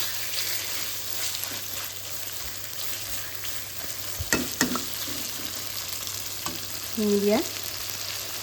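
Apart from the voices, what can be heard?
pork being sautéed and stirred in a pan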